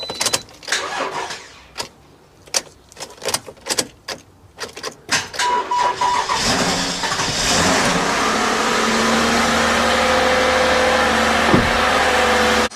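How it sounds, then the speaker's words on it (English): A car being started during a battery and alternator check with a jump starter connected, a series of sharp clicks and cranking bursts before the engine catches and settles into a loud, steady idle. "Alright, so now I'm going to start up the vehicle."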